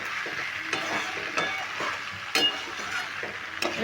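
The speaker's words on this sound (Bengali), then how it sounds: "আমি কুমড়ো আলু আর চিংড়ি মাছটা ভালো করে কষিয়ে নেব" Pumpkin, potato and prawns stir-fried in a pan, with steady close sizzling and scraping as a spatula turns them, marked by a few sharper knocks against the pan.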